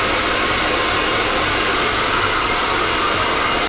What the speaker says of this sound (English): you use two hair dryers